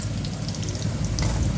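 Sliced okra sautéing in a pan makes a dense, even sizzle with soft popping, close and constant for a brief moment without any voices.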